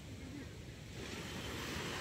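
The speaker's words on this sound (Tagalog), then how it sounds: "Malaki ang ating gulong ng dagat kaya hindi sila makatabi." Rough sea surf rolls in at a fish-landing shore in the Philippines, a steady, fairly faint broadband wash that swells slightly louder toward the end, with no clear talk over it.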